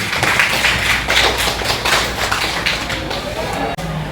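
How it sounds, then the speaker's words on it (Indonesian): A classroom of junior high students claps for a classmate in an art lesson, a dense, steady patter of many hands close by lasting several seconds, with no talk over it. "Oke, kita kasih aplaus pada Sabina dulu"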